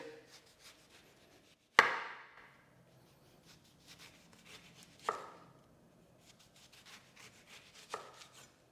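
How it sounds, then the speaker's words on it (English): A knife slices through a lemon on a cutting board while lampuki fish cooks, three sharp, close thuds spaced a few seconds apart with soft rubbing and scraping between them. "Now I prepare the second lemon by cut them slices."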